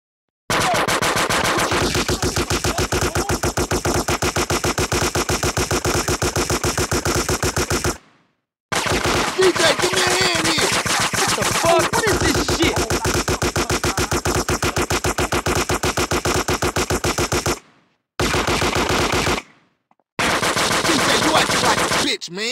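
Rapid, sustained automatic gunfire in the video game GTA San Andreas rattles out in long loud bursts broken by a few short silent gaps.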